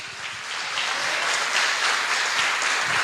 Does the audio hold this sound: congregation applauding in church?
yes